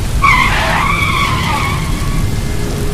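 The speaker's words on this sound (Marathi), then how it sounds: "तेवढ्यात मला दुचाकीच्या ब्रेकच्या घासण्याचा आवाज आला" Motorbike brakes skidding as a sound effect, a loud, close tyre squeal with shrill screeching tones that slides and fades over about two seconds against a steady noisy background.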